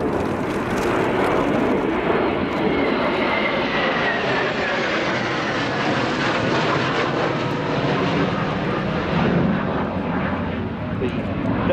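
Military jet aircraft flying in formation over the RIAT 2019 airshow at RAF Fairford, a steady loud roar sustained throughout with crowd and ambient noise mixed in.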